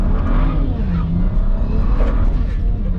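BMW 335i tuned to stage 2+ on E85 at 22 psi boost, launched hard in first gear: a loud, sustained engine roar with steady intensity throughout, tires struggling for traction, close and continuous.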